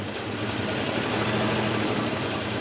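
A 1969 Land Rover Series 2a six-cylinder engine runs steadily, a loud continuous mechanical drone with a fast, even pulsing rhythm throughout and no voices heard.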